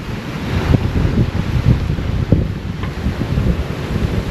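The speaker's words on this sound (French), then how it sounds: "Le vent il est assez constant et fort" Strong, constant wind at sea roars steadily and loudly, a dense broadband rush with faint thumps of water beneath it and no voices.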